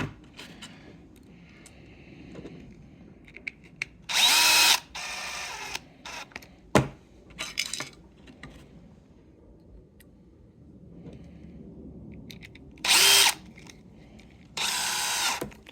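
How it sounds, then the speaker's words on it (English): Power driver screwing screws into a plastic RC crawler transmission in several short, sharp whirring bursts separated by quiet pauses and faint handling clicks, close by. "We're screwing on plastic, so we cannot over tight or we'll break the plastic."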